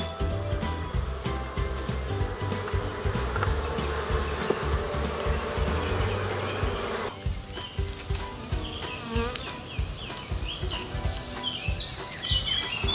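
Black honey bees buzzing around an open hive during a queen-marking colony visit, a dense continuous hum with a high steady whine and faint bird calls in the background.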